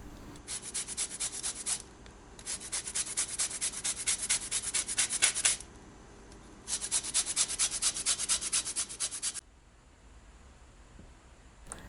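Lemon zest rubbed against a fine grater for baked yeast doughnuts, three bursts of bright, steady scraping strokes up close, each running a few seconds with short pauses between, then quiet at the end.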